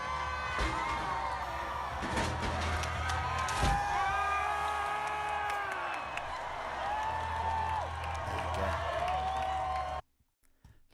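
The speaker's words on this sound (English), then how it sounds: "Lots of cheering." A large outdoor crowd in Bristol cheers and whoops steadily as the Colston statue is pulled down, with shouts and clapping continuing loudly before cutting off abruptly.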